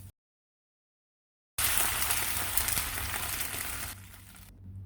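Sesame seeds and grated coconut fry and sizzle in a pan with curry leaves while being stirred, a steady loud crackle that starts after a short silence and eases slightly toward the end, with no talk.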